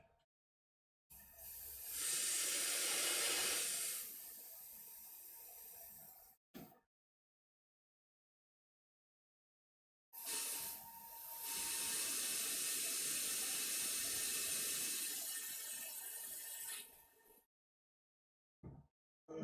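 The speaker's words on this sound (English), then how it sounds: "We'll blow that through the airbrush." Paint cleaner blown through an airbrush after spraying red paint on a Tamiya Karmann Ghia drift car body: two long, steady airy hisses of several seconds each, separated by a pause, with a brief burst near the end.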